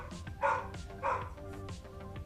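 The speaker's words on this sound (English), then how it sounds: "Okay, we're gonna take puppies outside." Several small puppies bark and yip in short bursts, two louder barks standing out among quieter yaps, close by indoors with no talking.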